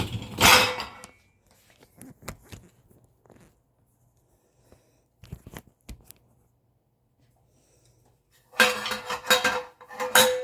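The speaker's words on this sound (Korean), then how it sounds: "설거지 정리를 해야된다" Dishes clatter as they are washed and put away in a home kitchen: a loud burst of clinking crockery and cutlery at the start, sparse faint knocks through a quiet middle, then another dense run of rattling dishes at the end.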